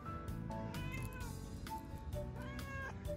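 A street cat in Hakata's old town meows several times, begging for food, the calls close and clear over a low outdoor hum, with no talking.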